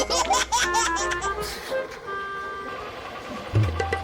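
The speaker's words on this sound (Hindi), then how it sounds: "गाड़ी का आवाज आया" A vehicle pulls up with a series of short honks from its horn, mixed in with bursts of laughter and lively voices, and a low engine rumble comes in near the end.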